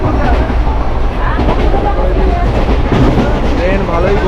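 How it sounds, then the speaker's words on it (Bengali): A passenger train in India running at speed, heard from inside a sleeper coach as a loud, continuous rumbling roar with rattling, rhythmic clatter throughout. "ট্রেন ভালোই গতি ধরে ফেলেছে,"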